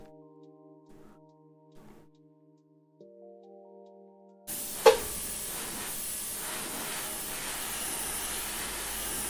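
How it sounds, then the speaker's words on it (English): An air compressor kicks on abruptly after a quiet stretch with faint tonal hum, starting with a sharp thump and then a loud, steady hissing roar that keeps running to the end. "I've had the same compressor for over a decade, and every now and then it still makes me jump when it turns on"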